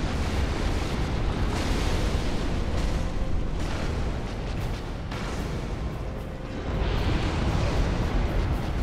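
A roaring, crackling fire rumbles steadily and loudly in the Dark Souls video game, a dense unbroken wash of burning noise that dips slightly midway before swelling again.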